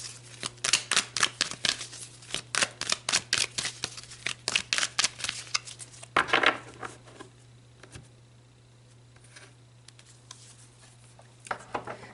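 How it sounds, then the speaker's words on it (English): Tarot cards riffle and snap in a quick, close series of crisp shuffling bursts for about six seconds, then a pause and a few soft card flips and placements, over a steady low hum. "let's pull some more cards"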